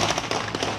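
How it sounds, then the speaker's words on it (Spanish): Gunfire exchanged during an armed clash, heard as a dense, continuous crackle of loud overlapping sharp reports with no clear gaps. "se incrementa el intercambio de disparos"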